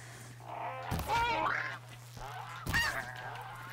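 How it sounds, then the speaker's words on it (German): Geese honk in the video game Horizon Zero Dawn, two loud nasal calls about a second and a half apart over a low steady hum. "Blöde Gänse, Alter."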